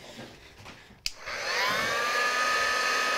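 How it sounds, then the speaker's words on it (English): After a sharp click, a handheld heat tool starts up and blows steadily over wet ink on a craft card, its whirring rising and then holding at a loud, even roar close by. "So let me just give this a heat set."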